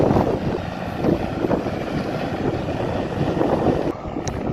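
A Ford TW25 tractor pulling a four-furrow reversible Kverneland plough rumbles steadily in an open field as it draws nearer, a low continuous drone mixed with wind buffeting the microphone.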